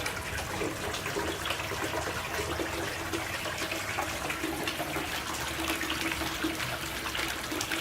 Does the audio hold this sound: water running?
yes